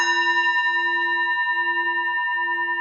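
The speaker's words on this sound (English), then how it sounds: "The sound of the temple bell booms for all to cease from conflict" A temple bell at a Buddhist service rings out in one sustained, resonant tone, its steady overtones humming and slowly fading, close and alone without talk.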